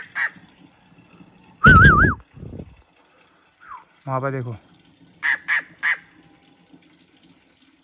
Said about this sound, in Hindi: यहाँ पर एक पक्षी है छुप रखी है